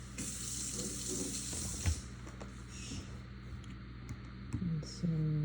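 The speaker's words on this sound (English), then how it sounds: "Somebody's making a drink over there, making lots of noise." Tap water runs steadily nearby while someone makes a drink, accompanied by light clatter and clicks, with no talking over it.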